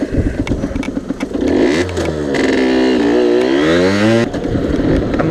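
A motorcycle accelerating hard on a ride, engine revving up through rising and falling pitch sweeps, loud and close with wind buffeting.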